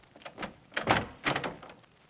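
Door being opened as a radio drama sound effect: a few quick clicks and latch rattles, then two louder creaking, scraping bursts close by, with no voices.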